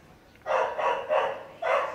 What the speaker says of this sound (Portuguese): Os cachorros estão todos bravos ali.